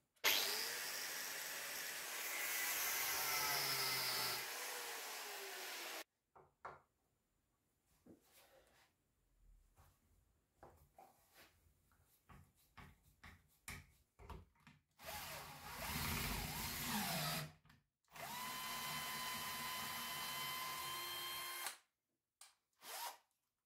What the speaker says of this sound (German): das schneide ich jetzt einfach so einen Schlitz rein, damit ich es rausdrehen kann.